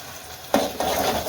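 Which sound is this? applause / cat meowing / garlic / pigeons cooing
garlic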